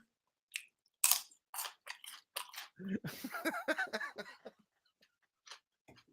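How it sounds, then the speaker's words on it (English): Noisy chewing of raw carrots up close, a run of wet crunching bites with irregular rhythm, clustered and loudest in the middle and tapering to a few isolated chews, with no talking. "I know it sounds disgusting when I'm eating."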